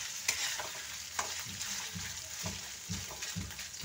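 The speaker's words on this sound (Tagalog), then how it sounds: "Parang ipiprito ko muna ng konti." Food fries in a pan with a steady close sizzle, broken by several soft stirring scrapes and clatters. No one speaks.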